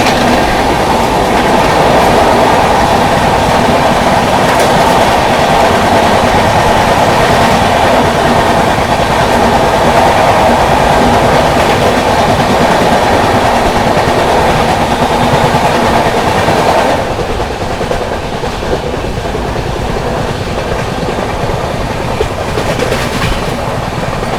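A 12264 Hazrat Nizamuddin–Pune AC Duronto Express runs hard on the rails while overtaking the Mangla Lakshadweep Express, giving a loud, steady rumble with wheel clatter that eases somewhat near the end.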